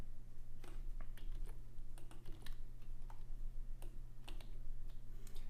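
Typing on a computer keyboard while programming, irregular quick key clicks and taps in short bursts over a low steady hum, close and fairly quiet with no talking.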